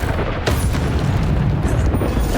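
Bombarda explosion spell in Hogwarts Legacy during combat, a sharp blast followed by rumbling booms and debris, loud and dense, with a second burst near the end amid ongoing battle noise.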